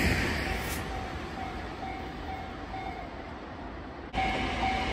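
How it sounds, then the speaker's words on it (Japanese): A Japanese rapid service train of 225 and 223 series cars rumbles steadily past a level crossing with a continuous low roar, a faint tone and a brief high hiss near the start, then a sudden louder burst at the end. "来ました来ました、新快速ですよ。"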